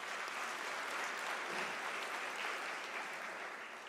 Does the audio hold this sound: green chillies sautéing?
no